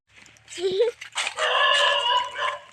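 A dog barks and yelps once up close, followed by people talking nearby.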